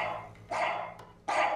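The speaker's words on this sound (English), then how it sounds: "You got a little Nazi dog." A small dog barks twice in sharp, evenly spaced yaps over a faint low hum, fairly quiet and alone.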